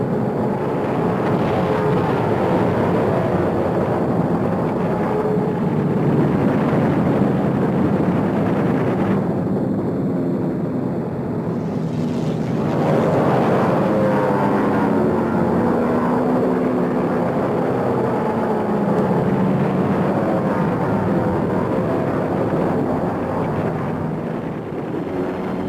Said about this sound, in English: A second wave of attack planes continues to strafe and bomb.